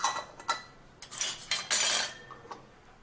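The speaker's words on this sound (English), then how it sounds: "And then you can go ahead and put on your lids" Metal lids and screw rims clinking onto the mouths of glass canning jars filled with grape juice, a series of close, sharp clicks and light scraping knocks with short pauses between them, no talking.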